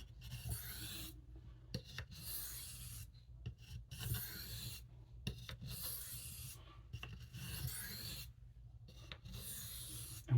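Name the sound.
alternating knife sharpening strokes on hard Arkansas stone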